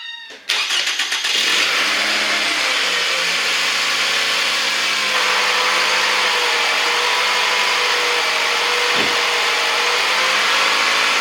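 A 2002–2009 Toyota Camry with the 2.4-litre 2AZ-FE engine cranks briefly and fires, just after a new alternator was fitted, then settles into a loud, steady idle heard up close for the remaining seconds.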